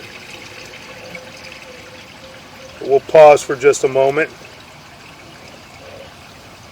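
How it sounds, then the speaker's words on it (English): Running water trickles steadily into a sewer pipe line, a soft continuous flow heard throughout, briefly masked when someone speaks in the middle. "Somebody's running water, so we're going to have some water coming in on us"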